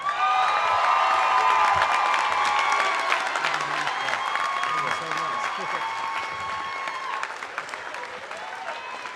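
Sustained audience applause at a convocation, dense clapping filling the room from start to finish and fading slightly toward the end, with some cheering mixed in.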